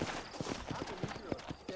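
Horse hooves clip-clop in the Red Dead Redemption video game, a steady run of close, rhythmic hoof beats over a bed of background game sound.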